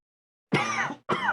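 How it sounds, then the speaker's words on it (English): A person clearing their throat, two short rough bursts close to the mic, the first longer and the second clipped, alone in silence. "Sorry, I had to clear my throat."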